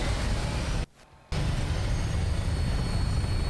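A Vertibird aircraft lifts off in the video game Fallout 4 with a loud, steady engine and rotor roar that cuts out briefly near the one-second mark, then resumes at full strength.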